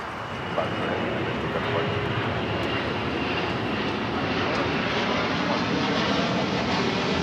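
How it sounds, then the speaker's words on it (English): A DHL Boeing 767 run by ABX Air takes off at LAX, its jet engines giving a loud, sustained, even roar that swells slightly and holds for several seconds without letup. "That was DHL, operated by ABX Air. Flight 50 taking off to Cincinnati on 767."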